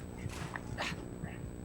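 A dog in a video game gives a few short yelps and whimpering barks over low game background noise, with a voice murmuring faintly beneath.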